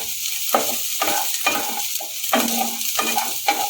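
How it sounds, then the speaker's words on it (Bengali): Shredded cabbage for vegetable soup is stirred in a hot pan, loud close sizzling broken by repeated rhythmic scrapes and clanks of the spoon about every half second. "প্রথমে দিয়ে দেবো বাঁধাকপিগুলো একটু নেড়ে চেড়ে নেবো এক মিনিট মতো বেশি না"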